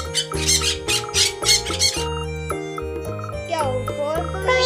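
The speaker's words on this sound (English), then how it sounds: "P for parrot." A parrot squawks several times in a loud, harsh run over a bright, jingling children's song melody, with the calls clustered in the first two seconds and more near the end.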